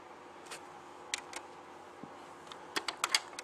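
Buttons pressed on a combined cassette and CD player, giving a handful of sharp plastic clicks that end in a quick cluster of taps, close and fairly quiet over a low background hum.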